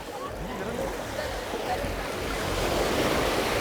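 Surf and sea waves wash steadily at busy Kata Beach on a weekday morning, with gusting wind buffeting the microphone in a continuous broad roar that swells slightly louder toward the end.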